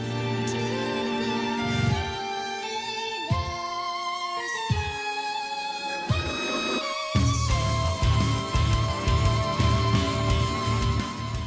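A remix of the first-area battle theme from Final Fantasy plays as dense, layered video game music with a steady beat, shifting sections and a fuller, heavier stretch near the end.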